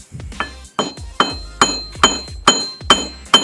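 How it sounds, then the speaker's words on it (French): Eight sharp metallic hammer blows at a steady pace, each ringing briefly, driving a small metal pellet into a hole up close. "On peut voir que faut que je la rentre au marteau quand même."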